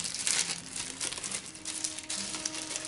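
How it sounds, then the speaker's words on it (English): Plastic bag opened while unboxing a monthly indie game subscription box, with continuous close crinkling and rustling of the thin plastic, loud and busy throughout with no talking. "it's in a plastic bag, so I'm gonna open this up"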